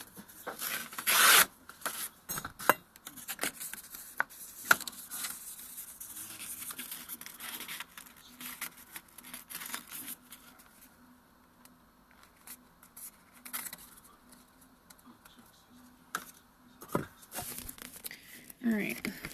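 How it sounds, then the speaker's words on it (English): Paper or similar material torn by hand, a few sharp ripping and crinkling bursts near and loud, mixed with rubbing and handling noises, with someone talking intermittently. "And I like to just tear it right there"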